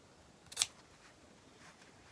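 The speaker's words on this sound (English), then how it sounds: "I'm going to cut right in between each petal" A single quick snip of scissors cutting between the petals of a primitive cloth sunflower, faint and brief in a quiet room.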